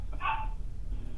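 A single short dog bark or yip heard faintly in the background during a weather service hydrology briefing call, one quick burst and then quiet room noise.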